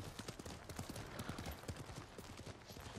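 A horse's hooves clip-clop at a steady trot in the Ghost of Tsushima video game, a continuous rapid rhythm of soft thuds under a faint background bed.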